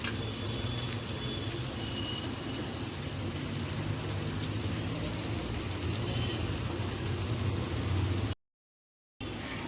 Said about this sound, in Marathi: तर अशा तऱ्हेने सगळे बोंबील मी फ्राय करून घेणार आहे.